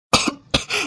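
A man coughs twice in quick succession, close and loud, two sharp bursts with a brief gap between them.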